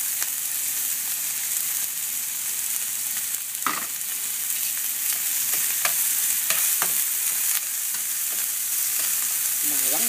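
Garlic and onion sauté in a hot pan for Filipino ginataang langka, a loud, steady sizzle close up with occasional clinks and scrapes of a stirring utensil, no talking.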